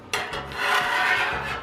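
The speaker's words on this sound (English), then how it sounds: "I'm going to scrape some of this crap off of here." A metal scraper drags across a Blackstone flat-top griddle to clear off cooked-on residue, producing one long, close, harsh rasping scrape.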